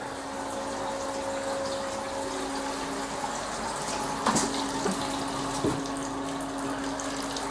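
Tap water running into a container to fill it with about 59 litres, a steady loud gushing rush with a faint hum, broken by a few brief knocks near the end.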